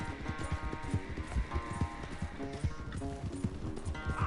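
Horse hooves galloping in a race in Red Dead Redemption 2, a steady rapid clip-clop rhythm running throughout, close and fairly loud over a layer of game music and ambience.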